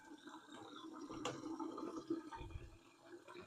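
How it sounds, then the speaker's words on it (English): Warm water runs over and wets a SIG P320 polymer pistol frame, a faint close trickle and splash with a brief sharp knock partway through. "I'm going to wet this with warm water"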